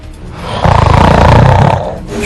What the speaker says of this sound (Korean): 못 견디기 힘든 코골이.